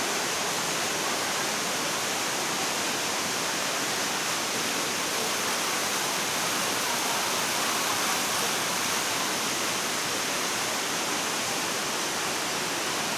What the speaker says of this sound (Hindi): चारों तरफ गीली चट्टानें थी, गीले पहाड़ थे, और हर जगह से पानी रिस रहा था